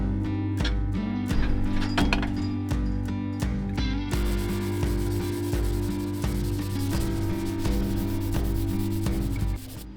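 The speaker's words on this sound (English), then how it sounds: "So it's my turn to take a shot at sanding." A truck door is sanded by hand before painting, with steady close rubbing strokes: rhythmic scraping at first, then a continuous dense grinding sound to the end. Nobody speaks.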